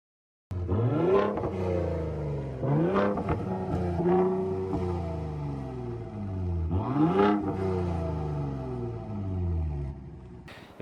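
A 2021 Ford Raptor pickup's variable trombone-style exhaust revs up several times in strong bursts, the deep V8-like engine rising and falling with a loud, throaty growl.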